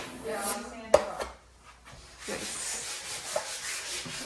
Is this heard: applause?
no